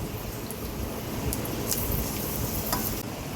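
Fenugreek seeds, star anise and black cardamom sizzle in hot oil for a fish curry tempering, a steady close crackling hiss with a few sharper pops, no voices.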